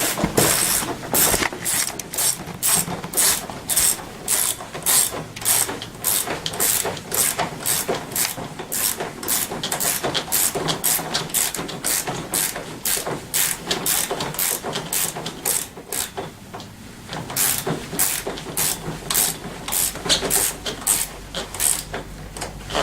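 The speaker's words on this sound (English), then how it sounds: "And start just tightening this down." A ratchet wrench tightens a bolt during assembly of a Tao Tao CY50 scooter, giving loud, rapid, evenly spaced clicks that run on and on, with a brief slowdown partway through and no voices.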